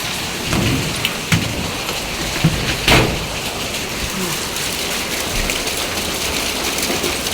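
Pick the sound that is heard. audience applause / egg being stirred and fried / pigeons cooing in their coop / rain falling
rain falling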